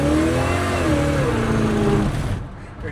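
A supercharged, carbureted 1948 Plymouth street rod on big fat tires revs hard, its engine note climbing and wavering as the tires smoke, loud and close, then tailing off near the end.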